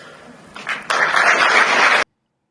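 An audience applauds a speech on Europe and the rule of law at a gathering of world leaders, scattered claps swelling into a full, steady burst of clapping that cuts off abruptly.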